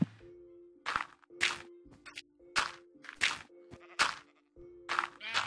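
Sheep bleat in the Minecraft video game, a series of about seven short, clear bleats spaced roughly evenly apart over a steady low background tone, with no talking.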